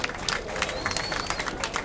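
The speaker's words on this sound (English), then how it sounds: "Give them a round of applause," A crowd at a live speech event in Boston applauds the Boston team, steady clapping from many people heard fairly close, with faint crowd noise mixed in.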